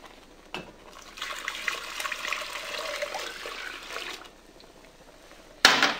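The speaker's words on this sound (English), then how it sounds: "And then we'll pour in the rest of it." Milk poured into a thickened mushroom soup sauce, a gentle trickling stream lasting a few seconds, soft and close, ending with a brief clatter.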